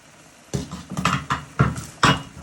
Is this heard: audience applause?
no